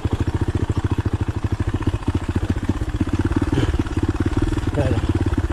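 A motorcycle engine putters in a fast, even pulsing rhythm while engine braking down a steep slope, loud and close, with faint talk under it.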